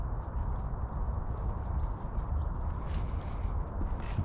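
Goats walking on a path on Yelagin Island in Saint Petersburg, hooves clopping softly and irregularly under a low, rumbling outdoor background, close by.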